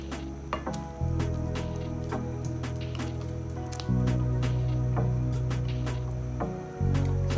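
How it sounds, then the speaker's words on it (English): Blended fresh tomatoes and tomato paste are poured into a waakye stew in a pot, giving soft wet squishing and splattering over a steady background hum. "So I'm going to add the tomatoes to it."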